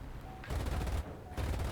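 Bursts of machine gun fire from an S-199 fighter in War Thunder: two dense, rapid volleys separated by a short pause, loud and close.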